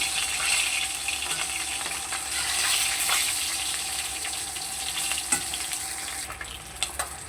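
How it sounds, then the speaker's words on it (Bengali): Fish pieces frying in hot oil give a steady, close crackling sizzle throughout, with a few brief clinks near the end as pieces are handled. "মাছগুলো দেখো আমার লাল করে ভাজা হয়ে গেছে"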